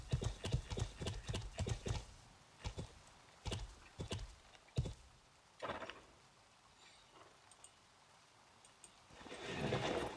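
Horse hooves clip-clop at a steady walking pace in the medieval video game Life is Feudal, close and fairly loud, pausing midway and ending with a rising rustle, with no talking over it.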